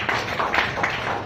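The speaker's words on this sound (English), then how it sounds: "Round of applause, please." A short burst of clapping at an expo press conference, fairly close and moderately loud, irregular claps running for just over a second.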